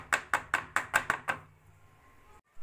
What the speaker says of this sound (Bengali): এবার কেক টিনটাকে এভাবে একটু ট্যাপ করে দেব।